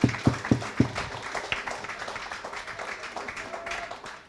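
An audience in a primary school courtyard clapping, opening with a few sharp distinct claps that spread into looser, fading applause, with faint voices underneath.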